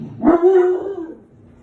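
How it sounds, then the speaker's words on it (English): A pet dog lets out a single drawn-out bark that trails into a whining tone, close and loud, heard alone without speech. "my husband came home and my dog started barking"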